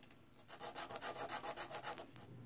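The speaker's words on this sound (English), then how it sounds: "what I'm going to do next is sand the corners so they will be rounded" Small corners of a wooden miniature phone piece are sanded by hand, giving a quick, even run of about a dozen soft rasping strokes, close but quiet.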